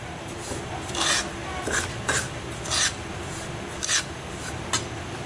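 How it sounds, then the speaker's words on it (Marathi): Semolina dry-roasting in a kadhai for mango shira, stirred with a spoon: a series of about eight soft, gritty scraping strokes at an uneven pace, close by over a quiet hiss. "वाटी रवा घालूया कढईमध्ये। कढई गरम करायला ठेवलेली आहे आणि त्यामध्ये आपण रवा टाकलेला आहे। त्याच्यावर आपल्याला रवा भाजून घ्यायचा आहे।"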